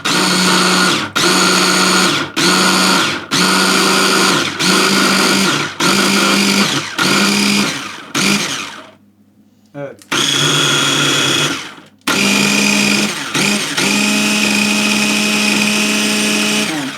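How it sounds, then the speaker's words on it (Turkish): A blender chopping onions whirs loudly in repeated short pulses, pausing briefly between bursts, then runs longer near the end; a voice speaks once. "şimdi de soğanlarımızı blender'a geçiriyoruz"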